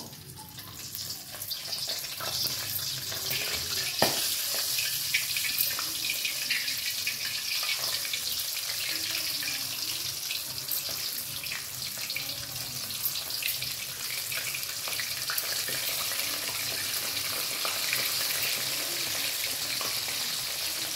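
Wheat flour papdi snacks fry in hot oil with a continuous dense bubbling hiss that stays loud and even for the whole stretch, with occasional small pops and a faint watery wash underneath.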